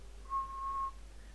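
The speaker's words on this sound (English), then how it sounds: "I can, for example, whistle, and you can see the peak of the whistle inside the waterfall." A person whistles one steady, pure note, close and clear, lasting about half a second over a faint hum, with no talk.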